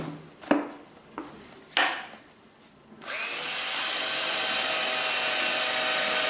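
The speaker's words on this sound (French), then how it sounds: "ici dans le fond, on va faire des trous de 4 mm" A power drill bores 4 mm holes in the bottom of a plastic Asian hornet queen trap: a few short taps and bursts first, then a steady, loud, continuous drilling whine close by.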